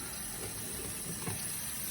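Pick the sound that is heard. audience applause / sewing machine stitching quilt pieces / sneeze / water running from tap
water running from tap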